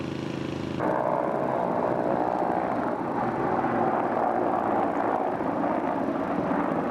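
A Russian Helix military helicopter drones steadily overhead, its broad whooshing rotor roar sustained and fairly loud from start to finish, after a brief lower engine hum at the start.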